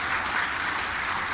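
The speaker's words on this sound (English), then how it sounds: "you can clap for that." Audience applause at a ribbon cutting ceremony for a hospital specialty care building, a steady dense wash of clapping hands filling the whole moment at moderate loudness with no voices over it.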